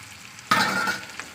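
Onion and garlic hit a hot pan with a sudden loud sizzle that settles into steady crackling frying, close and clear, with no talking.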